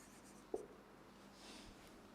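Pen writing on paper, a soft, faint scratching over quiet room noise with one brief tap near the start.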